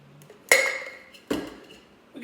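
A Brandy Alexander made with cream and shaken in a tin is strained into a glass: two sharp, ringing clinks of metal and glass about a second apart, each fading slowly, with a faint knock at the end.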